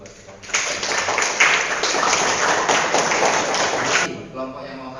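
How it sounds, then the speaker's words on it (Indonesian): A classroom of students claps for a group about to perform, a dense, even patter of applause lasting about four seconds before it stops abruptly. "ya kita beri tepuk tangan lagi buat"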